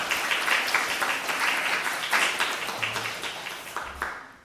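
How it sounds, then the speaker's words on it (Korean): Church congregation at a Sunday Lent service in Darmstadt clapping to welcome visitors: a dense burst of many hands applauding for a few seconds, loud and even, fading at the end. "우리 옆에 있는 분들 박수로 환영하겠습니다"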